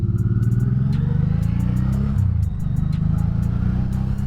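A 1986 Honda Shadow 700 cruiser motorcycle engine running while ridden, a steady loud low rumble close up that holds throughout with slight shifts in pitch, plus some wind noise.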